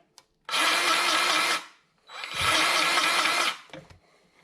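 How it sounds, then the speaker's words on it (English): A powered grease gun pumps grease into a shop jack in two sustained, loud whirring runs of about a second and a half each, separated by a short pause, with no voices. "You can hear it actually pumping grease into the thing."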